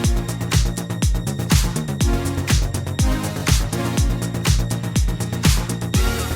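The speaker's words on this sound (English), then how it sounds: "today I'm going to show you how to make a future disco bass sound with Serum" Future disco bass synth patch built in Serum, playing a punchy, rhythmic bassline over a steady four-on-the-floor beat, loud and continuous throughout.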